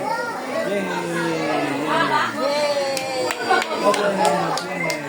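Hands clap in a quick, rhythmic run at a child's first birthday party, mixed into busy children's chatter and an adult speaking throughout.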